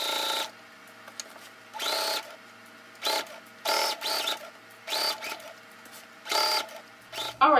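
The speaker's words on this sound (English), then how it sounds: "continue sewing until you get to the other end of your waistband" A sewing machine stitches a dress waistband in short bursts of rapid whirring, about eight runs separated by brief pauses, close and clear with no talking.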